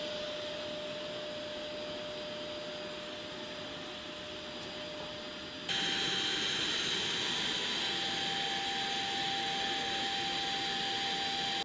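A Samsung JetBot AI+ robot vacuum runs with a steady whirring hum and airy hiss; partway through it switches to a louder, higher-pitched setting and keeps going.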